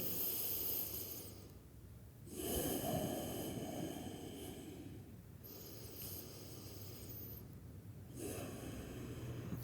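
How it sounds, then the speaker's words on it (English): Slow, deep breathing during a grounding yoga session, with about three long inhale-exhale cycles, each a close, airy rush separated by brief quiet pauses. "Just a few deep breaths."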